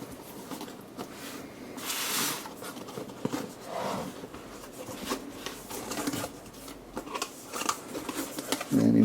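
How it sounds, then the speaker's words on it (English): Scissors snip and crunch through packaging in scattered bursts, with rustling plastic and cardboard handling close by. "So I'll need scissors."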